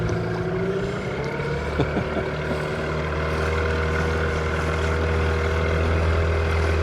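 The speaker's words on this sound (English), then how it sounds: "Now it's time to take the dinghy ashore with Bry at the controls" A motorized dinghy runs steadily toward shore in the Caribbean, its outboard engine droning close and loud without a break, the pitch wavering slightly, with no speech.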